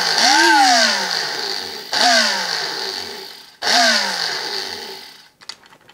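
An electric blender is pulsed in three bursts while blending fly-tying dubbing fibres. Each burst spins up with a loud whining roar, drops in pitch and cuts off, and faint clicks and handling follow the last one.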